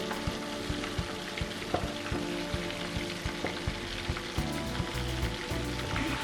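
Chicken fries on a low flame, a steady dense sizzle and crackle of oil with faint stirring scrapes, continuous and close with no talking.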